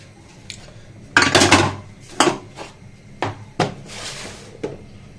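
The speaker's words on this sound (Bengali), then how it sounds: "পরিষ্কার করে নিচ্ছি আস্তে আস্তে এক এক করে।" Kitchen dishes and pots clatter as they are cleaned one by one, with a series of separate, fairly loud clanks and scrapes spaced irregularly, no talking over them.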